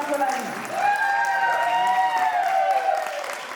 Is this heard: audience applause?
yes